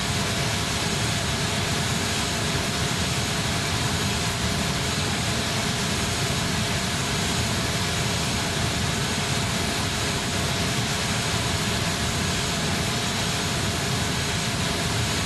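A Kalitta Air Boeing 747-400F cargo jet's engines roar in a continuous, broad wash of noise throughout its takeoff roll departing Dallas, steady and fairly loud with no voices.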